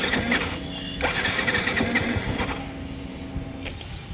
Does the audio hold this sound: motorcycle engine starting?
yes